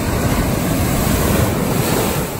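Surf at Bondi Beach in Australia roars in a dense, steady wash of breaking waves, loud and close, mixed with wind buffeting the microphone and no voices.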